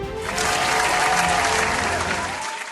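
Audience at a gospel singing show applauding a special guest, a loud sustained round of clapping that fades out at the end.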